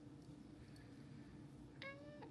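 A house cat gives one short meow near the end, close and clear, after a stretch of steady low room hum in a home garage during a car rebuild.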